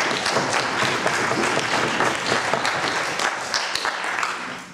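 An audience claps warmly for the speakers at a 2014 debating championship semifinal, a sustained, dense round of applause filling the room at even loudness throughout.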